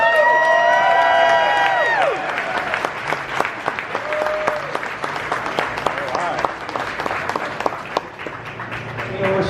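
A crowd applauds and cheers for a band at their Rock and Roll Hall of Fame plaque dedication, with steady clapping and scattered whoops after an amplified voice and a musical swell fade out.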